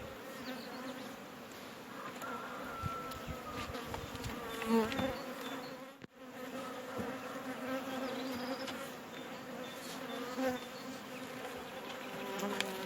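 Dense, steady buzzing of many honeybees close by at a strong hive of five or six frames, a continuous droning hum with a brief dip midway.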